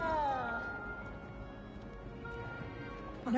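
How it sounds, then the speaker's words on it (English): A kitten in the Hogwarts Legacy video game gives a short meow at the start and another at the end, close and fairly clear, over a quiet game background hum. "Had to pet the kitten. I love kittens."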